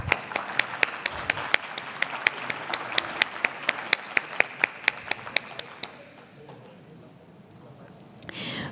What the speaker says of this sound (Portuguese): Uma salva de palmas à doutora Fernanda.